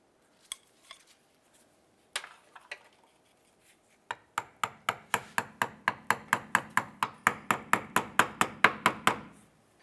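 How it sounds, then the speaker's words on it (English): Metal clamp on a Honda Civic inner tie rod boot struck with a flathead screwdriver: a few scattered taps, then a steady run of about twenty sharp, evenly spaced metallic clicks, close and fairly loud, with no talking. "we're going to use a flathead screwdriver just to kind of get underneath, and we're going to give it a few taps and work that off"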